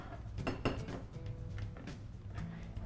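Chopped carrot pieces dropped into a saucepan, a few quick metallic clinks and clatters in the first second, then quieter small knocks in a quiet kitchen.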